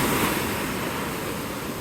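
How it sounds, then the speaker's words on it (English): Big surf at high tide on Navarre Beach makes a constant, loud roaring wash of breaking waves, a broad steady rush mixed with some wind noise and no voices. "big waves."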